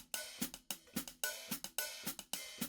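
Hi-hat bell struck with the stick tip in a soft drum lesson, a steady series of bright, ringing metallic pings at an even pulse, close and alone with no talking.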